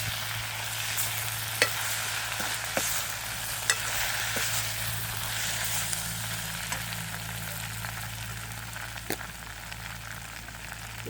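Onion and potato for an egg samosa filling fry with a soft, constant sizzle in a pan. A spoon stirs quietly and taps now and then.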